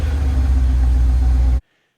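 A 955-generation Porsche Cayenne Turbo engine running with a loud, steady low rumble close by, cutting off abruptly to silence.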